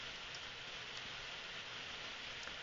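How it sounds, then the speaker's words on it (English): Rain falls on a conservatory roof as a faint, continuous patter with occasional slightly louder drops. "Can you hear the rain coming down?"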